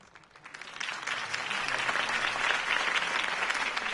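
A crowd in a Batman video game bursts into applause after a campaign speech by Harvey Dent, the clapping swelling within a second to a dense, sustained ovation that carries on steadily to the end.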